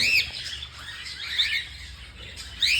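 Pet cockatiels give repeated sharp squawks and chirps close by, bursting at the start, middle and end over a low room hum, with no talking.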